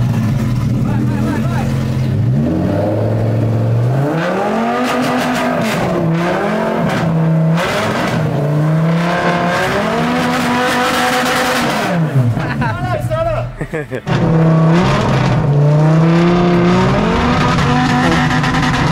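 A Lamborghini engine revs hard again and again with a balloon stretched over the exhaust, each rising and falling roar close and loud, while people talk over it.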